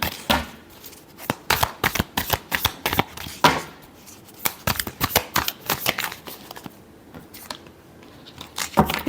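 Tarot cards are shuffled by hand in a run of crisp, rapid riffling bursts with short pauses between them, close and clear, with no talking.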